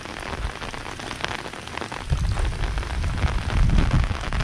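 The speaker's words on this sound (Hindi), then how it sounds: "बारिश हो रहा है यार।" Steady rain falls near a river in the Sundarbans, a dense continuous patter that grows heavier and louder partway through, with low rumbling beneath and no voices.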